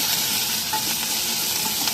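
Continuous hiss of frying tempering being stirred with a spoon into a pan of Andhra-style sambar (lentil stew), close and fairly loud, no voices.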